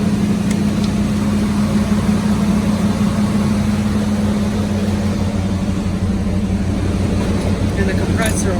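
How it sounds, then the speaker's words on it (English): Blower motor of a 1978 Pontiac Trans Am heater running with a steady, droning hum and a low engine idle beneath it, continuous and even throughout at close range. "I'm just gonna flip the heater on to see if the blower motor works."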